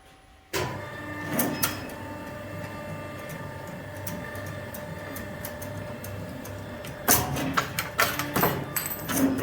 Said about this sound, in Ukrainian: працює в автоматичному режимі наш розмотуючий пристрій. Запускаємо програму.